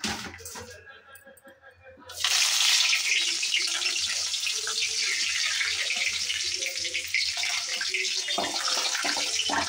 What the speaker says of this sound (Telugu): ఆల్రెడీ నేను ఆయిల్ పోసి పెట్టా, అది వేడెక్కింది. సో ఫస్ట్ అయితే మనము కరివేపాకు వేసుకున్నాం.